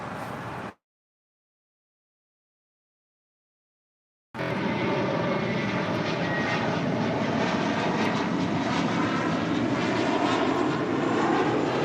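A jet airliner departs runway 25 right at LAX, a powerful, sustained engine roar that starts abruptly after a stretch of silence and holds loud and steady, with a short burst of the same noise at the very start.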